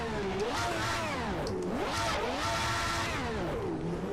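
A Ferrari race car engine at Zandvoort circuit revs up and down in repeated sweeping cycles, a continuous, moderately loud howl rising and falling through the gears.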